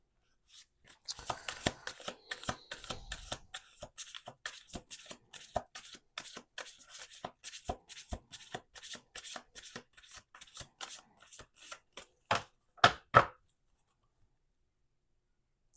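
Tarot cards being shuffled by hand, a rapid series of crisp riffling snaps and taps up close, ending with a few louder knocks before silence.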